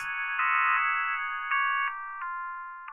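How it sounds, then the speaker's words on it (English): Harsh electronic tones from Talking Flower binary data from Super Mario Bros. Wonder Switch 2 Edition converted to audio step through a series of sustained pitches, changing abruptly every half second or so, buzzy and synthetic. "the Talking Flower's converted binary audio sounds something like"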